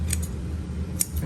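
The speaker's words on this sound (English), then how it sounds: "we're going to trim the pencil line by just taking our scissors, our shears," Scissors or shears trimming wallpaper along a pencil line at window and door moulding, two short crisp snipping cuts about a second apart, close and clear with no talk.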